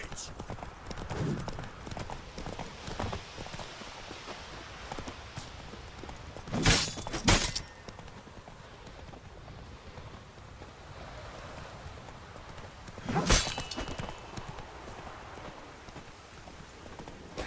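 Roach, the horse in The Witcher 3, gallops with steady clip-clopping hooves across the whole stretch, joined by a few sharp loud crashes and faint surf-like background noise.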